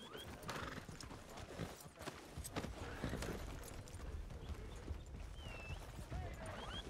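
Horse hooves gallop in WildRP, a Red Dead roleplay game, during a lawmen's chase after an outlaw gang: a loud, close, rapid and steady clip-clop runs throughout, with occasional whinnies and faint voices in the background.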